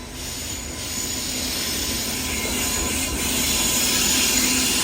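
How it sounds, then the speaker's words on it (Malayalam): A Humsafar Express runs steadily toward Tiruchirappalli, heard from on board as a loud continuous rumble of wheels with a high metallic squeal and hiss layered over it, building slightly over a few seconds with no voices. "തിരുച്ചിറാപ്പള്ളിയിലേക്ക് പോകുന്ന ഹംസഫർ എക്സ്പ്രസ് ആണ്"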